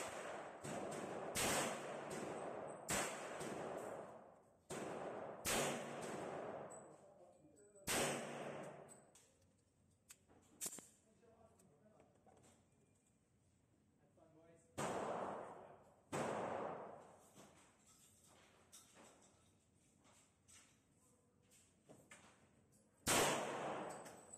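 A Para Ordnance P16-4 .40 S&W pistol fires a dozen or so sharp, loud reports at uneven intervals, some in quick pairs and some after long gaps, each with a short ringing tail under quiet background noise.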